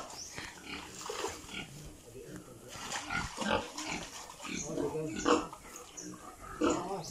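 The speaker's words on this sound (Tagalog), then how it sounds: "Ang baboy ay ga kinaguol." Pig grunts on a rural farm, repeated short rough bursts close by, mixed with ongoing conversation and some splashing.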